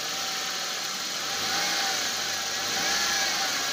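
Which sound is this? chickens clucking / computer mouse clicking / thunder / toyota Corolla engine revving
toyota Corolla engine revving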